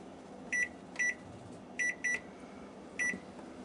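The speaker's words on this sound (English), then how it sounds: "I'll start my timer." A kitchen timer gives five short electronic beeps in an irregular pattern, some doubled, clear over a quiet room background.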